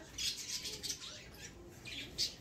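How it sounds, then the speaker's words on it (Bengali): Pet birds kept at home chirp in a faint, quiet series of short high tweets, several calls spaced unevenly over a couple of seconds with no voices. "দেখছি ওরা কিচিমিচি করে ডাকছে"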